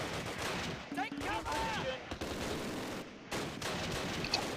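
An MG42 machine gun firing in the WWII strategy game Close Combat: Last Stand Arnhem, heard as continuous rattling gunfire with some whistling effects and a couple of brief gaps, all under a noisy battle din.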